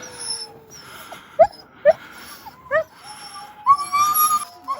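Excited sled dogs in Lapland, Sweden, whine, whimper and yip in short, rising cries, loud and close, several overlapping, with a brief human voice now and then.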